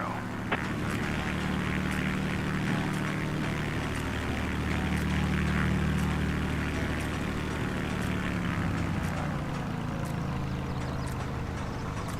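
A propeller aircraft taxis in Microsoft Flight Simulator 2024, its engine a steady, low, droning hum at moderate volume that holds throughout with a faint shift in pitch near the end.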